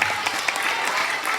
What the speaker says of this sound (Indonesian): Waduh, hebat, tepuk tangan buat Agus.